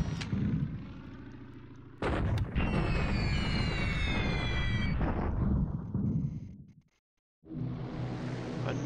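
Bombing raid explosions over China in the War in the Pacific: Admirals Edition strategy game, a dense run of deep booming blasts and rumble with a high whine, fading to near silence before another burst.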